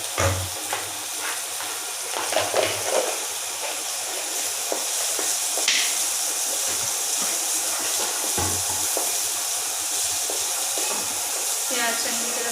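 Chopped onions fry in a hot pan with salt for malai pasta, giving a steady close sizzle and hiss, with occasional stirring clinks throughout.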